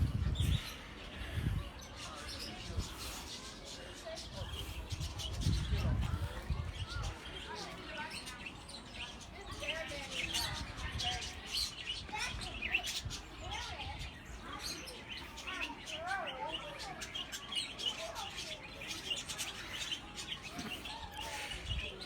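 Budgerigars chirp and tweet in a garden bird cage, a busy spread of small bird calls running throughout alongside voices and some low thumping noise early on.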